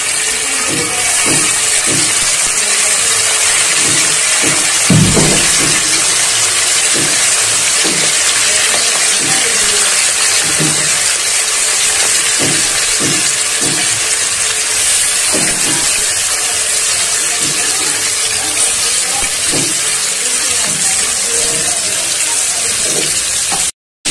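Pieces frying in hot oil for a Bengali chicken curry with potatoes: a loud, continuous hissing sizzle held close for a long stretch, punctuated by irregular light knocks of a utensil against the pan, with no talking.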